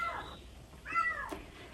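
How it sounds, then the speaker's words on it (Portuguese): A cat meows several times in short, plaintive calls, heard faintly over a low background hum with no talking. "toda hora ele fica miando, tadinho"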